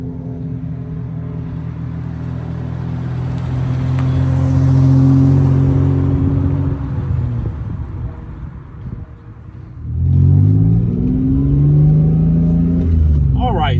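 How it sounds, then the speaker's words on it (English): Mitsubishi 3000 GT sports car driving, engine rumble building up and easing off, then revving hard again near the end, loud and close with no clear speech. "Let's go ahead and hop in and take it for a drive"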